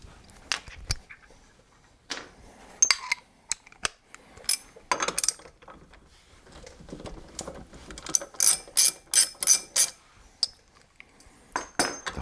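Ratchet wrench working the hub nut on a Pontiac GXP during a coilover install, with quick close clicking bursts separated by pauses and clinks of tools and metal parts.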